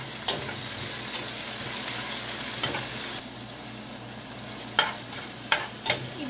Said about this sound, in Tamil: எல்லாத்தையும் நல்லா வதக்கிக்கலாங்க.